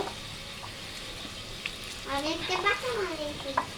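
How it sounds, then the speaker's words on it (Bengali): French fries sizzle steadily in a hot pan with a constant close hiss, while a voice briefly speaks over the frying in the later part. "তোমার ফ্রেঞ্চ ফ্রাই হচ্ছে"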